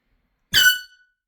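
A single short blast from an air horn, loud and harsh with a bright buzzing tone, lasting about a third of a second against silence, then trailing off quickly, set in a California prank.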